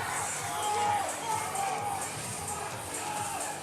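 A crowd at a powerlifting meet cheers a lifter attempting a heavy squat, a dense, steady roar of voices and shouts that swells and holds throughout.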